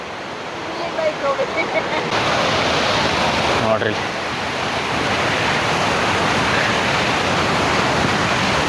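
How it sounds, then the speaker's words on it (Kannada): Irpu waterfall in Kodagu roars as a dense, steady rush of falling water, loud and continuous throughout, with a voice briefly heard early on. "ಇದೇ ಇರ್ಪು ಜಲಪಾತ"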